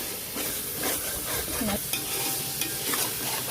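Onion, mint, green chilli and tomato masala for chicken biryani is stirred and fried in a pan, giving a steady close sizzle with scraping spoon strokes throughout.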